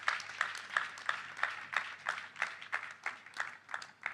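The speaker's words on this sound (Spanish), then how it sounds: "Vamos a aplaudir a nuestro maravilloso sanador." Applause for a healer at a church healing service, a moderate, evenly paced run of hand claps at a distance with no speech over it.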